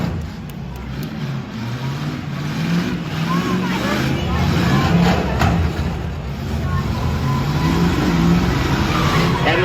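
Cars rumble and rev around a demolition derby arena, engines droning and surging continuously with faint bumps and scrapes from low-speed collisions, while an announcer talks over the action.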